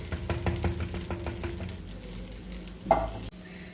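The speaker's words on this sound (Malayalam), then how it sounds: "ഇതെല്ലാം ഒന്ന് ഇളക്കി യോജിപ്പിച്ച് അടിപൊളി കറി" Ginger curry (inchi theeyal) is stirred and mixed in a pan, making rhythmic scraping clacks over a steady sizzle for about a second and a half, then a gentler simmer with one sharper knock near the end.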